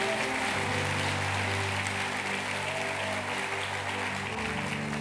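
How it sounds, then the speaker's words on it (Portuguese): A church congregation applauds steadily throughout, a dense, even wash of clapping with a low sustained tone, likely music, underneath and no break in the sound. "se é para o Senhor, pode aplaudir."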